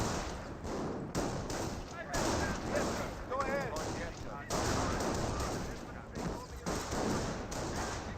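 Rapid bursts of gunfire from Panzer Grenadier infantry in the World War II strategy game Company of Heroes, dense overlapping rifle and machine-gun volleys with thuds, continuous and loud, mixed with game effects.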